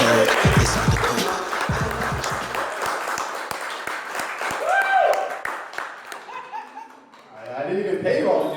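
A live audience at a talk event claps and laughs, a burst of applause with chuckles at the start, then speech and scattered reactions follow.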